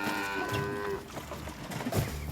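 Pedigree dairy cows on a farm give a long, drawn-out moo that is fairly loud and nearby, followed by shorter, rougher lowing sounds and some scattered farmyard noise, with no speech.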